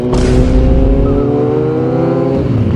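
A loud engine revs up close by, its rising whine strong and continuous through the whole stretch.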